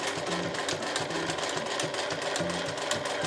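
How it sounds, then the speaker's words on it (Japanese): A sewing machine stitches along the edge of a zipper pouch made from fabric scraps, a steady fast mechanical chatter with a rhythmic low hum, close and continuous with no talking. "で最後返し縫いします。"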